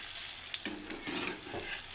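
Chicken kabab patties shallow frying in a pan over medium gas, giving a steady close sizzle with faint stirring and scraping and no talking.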